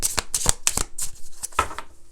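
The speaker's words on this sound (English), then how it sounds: "I'm shuffling right now, not in front of the camera" Tarot cards are shuffled by hand in quick, crisp riffling bursts, several close ripples of card against card with short pauses between, near and clear with no talk.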